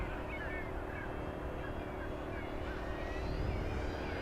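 An FMS 1700mm Corsair V3 RC warbird with a new propeller on 6S power flies past, its motor and prop making a steady, fairly faint drone at a distance.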